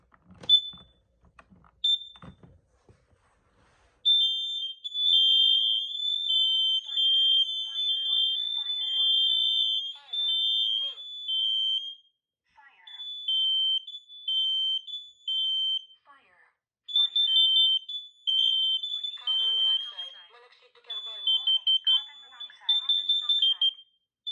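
A Kidde KN-COSM-IB combination smoke and carbon monoxide alarm sounds loud, shrill, sustained beeping in long repeated bursts with short gaps, preceded by brief clicks and handling noise at the start.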